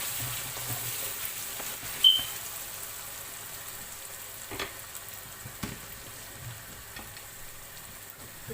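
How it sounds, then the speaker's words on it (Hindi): Golden onions sizzle softly in a hot pan, a continuous quiet frying hiss broken by occasional scrapes and knocks of a spoon stirring them, with one brief high beep early on. "हमारा प्याज गोल्डन हो चुका है। हिलाएंगे यहाँ हम प्याज को।"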